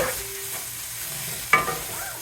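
Chicken stir frying in oil in a pan, a steady soft sizzle with stirring scrapes and a sharp clank partway through, close and fairly quiet with no talking.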